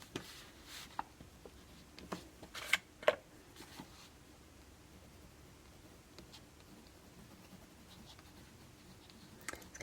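A freshly inked pen writing on paper, soft scratchy strokes with a few sharper ticks early on, then quieter continuous scribbling, close and faint with no talking.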